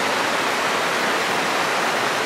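River water flowing past the bank makes a constant, even rushing hiss that is close and moderately loud, with no voices.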